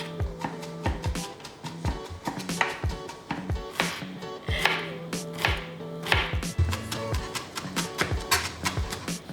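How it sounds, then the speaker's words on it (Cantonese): Garlic and shallots being minced with a knife on a cutting board, a fast, steady run of close, crisp knocks that goes on without a break and has no talking over it. "蒜頭同乾葱切蓉"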